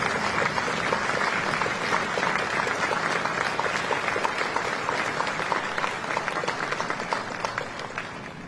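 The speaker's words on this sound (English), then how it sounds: "please join me in recognizing our Veterans National Leadership with your applause" Sustained applause from a large crowd honoring veterans' national leadership at a Veterans Day wreath-laying ceremony, steady dense clapping throughout that tapers slightly at the end.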